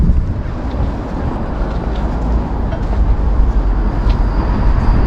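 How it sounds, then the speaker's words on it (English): Outdoors on the Blackpool promenade, wind blows across the microphone in a continuous low rumble that swells slightly in gusts, with no talking. "it is a little bit windy now"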